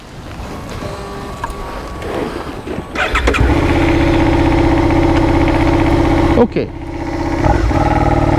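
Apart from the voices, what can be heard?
larger motorcycle engine running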